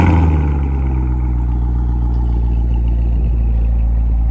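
A 2017 Corvette's engine runs steadily after a remote start, a loud, deep idle rumble that holds constant throughout with a slight rev at the start and no voices.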